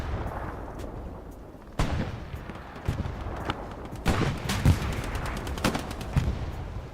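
Shotgun buckshot gunfire in the World War II shooter Hell Let Loose, with several sharp, loud blasts spaced irregularly over a steady rumble of distant battle noise.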